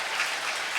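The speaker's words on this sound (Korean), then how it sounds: "격려의 박수 보내주세요" A church congregation claps in encouragement during an Easter Mass, a brief burst of dense, even applause from a crowd.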